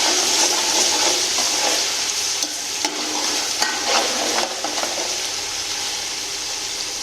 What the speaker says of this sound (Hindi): अब इसमें अदरक लहसुन का पेस्ट डाला है।